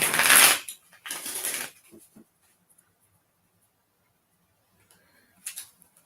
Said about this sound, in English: I'm trying to shuffle on my lap because the table makes like a whole bunch of noise.